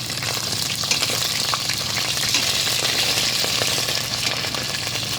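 Oil sizzles and crackles continuously as fish fries, a loud steady hiss with small pops throughout.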